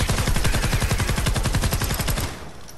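Rapid automatic gunfire in the Fortnite Save the World video game, a steady burst of sharp shots that continues for over two seconds before cutting off, loud and close.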